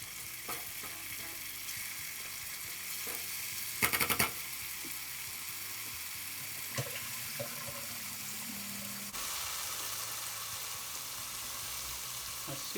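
Spice mixture frying in a non-stick pan while curry chicken is being pre-cooked, giving a steady soft sizzle throughout with a few brief clinks of stirring.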